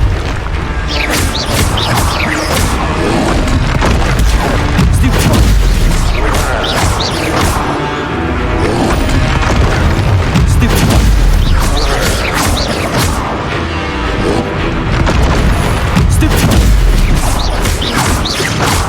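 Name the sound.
Confringo explosive spell blasts in Hogwarts Legacy video game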